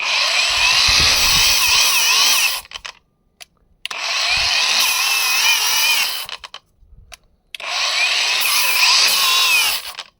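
A Revolt cordless angle grinder fitted with a metal wire brush runs at maximum speed, held one-handed with no pressure. It makes a loud high whine in three long bursts, each lasting about two to three seconds, with short gaps between them.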